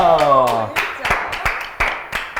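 Children clap after a point is scored in a competitive match, a run of sharp, separate claps spaced unevenly nearby, following a brief voice at the start.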